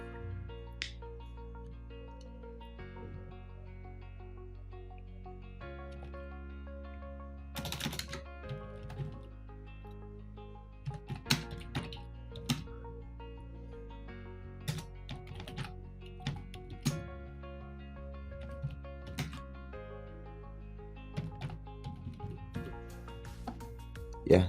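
Quiet clicking of keys on a computer keyboard while entering text in a design program, irregular bursts of taps over soft background music.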